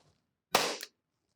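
A single close, sharp gunshot rings out during a padded self-defense demonstration against a knife attack, one loud crack with a short tail, isolated against near silence.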